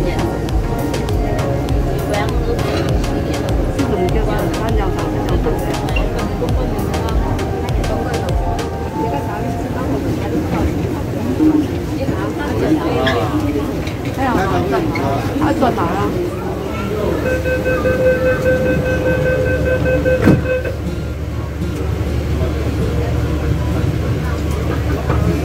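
A Hong Kong MTR Sha Tin line train rumbles through a subway station with a low, continuous drone, a rising whine and a brief series of clear electronic chime tones, while a person talks over it.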